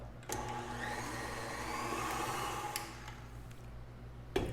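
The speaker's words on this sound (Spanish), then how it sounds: "Y vamos a batir de nuevo." An electric mixer beats cookie dough with butter and egg, a steady motor whir running continuously at moderate loudness, starting abruptly and stopping near the end.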